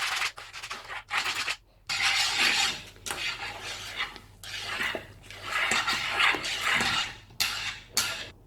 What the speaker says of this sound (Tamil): இந்த பதம் வர்ற வரை கைவிடாமல் கிளறணும்.